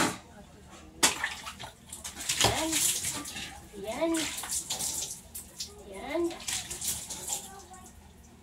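Hot water pours and splashes steadily, with a broad rushing hiss, while someone speaks softly over it.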